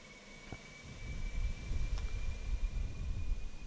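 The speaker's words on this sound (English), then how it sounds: "That's the APU start, and you can see now it's kicking off here." Auxiliary power unit of an Airbus A320 starting up in Microsoft Flight Simulator, a low rumbling whoosh that swells and steadies over a few seconds beneath a thin constant high whine, with a couple of faint clicks early on.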